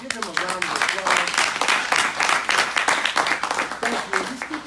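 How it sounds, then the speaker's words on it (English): An audience at an evening community happy hour breaks into a loud, dense round of applause, with a voice talking over the clapping. "Give them a round of applause."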